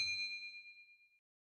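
A single bright notification bell ding that rings out clearly and decays smoothly over about a second before silence, with no talk.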